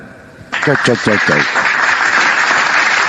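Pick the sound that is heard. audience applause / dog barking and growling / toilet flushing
audience applause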